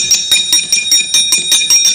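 Gamelan bronze struck during a Javanese wayang shadow-puppet performance, ringing as about ten bright, loud metallic strikes in a quick, steady rhythm, each with a shimmering high tone, close and with no talk.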